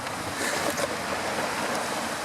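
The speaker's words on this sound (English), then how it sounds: "The tide's coming in, the waves are picking up" Ocean waves and wind along a choppy coast by a coastal military watchpost, a steady broad wash of surf and gusting air noise holding at a constant level with no voices.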